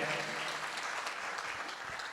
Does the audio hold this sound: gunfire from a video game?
no